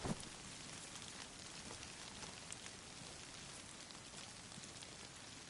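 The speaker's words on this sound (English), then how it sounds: "it's the rain falling and hitting the trees and it sounds like someone's loading a gun" Steady rain pattering on trees in the DayZ survival game, a continuous dense wash of drops with occasional sharper taps, moderately loud and unbroken throughout.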